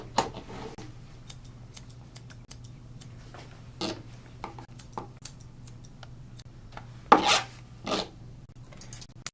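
Scissors trimming a terrier's leg fur, sparse crisp snips scattered over a quiet background, close by, with a small cluster of louder cuts toward the end.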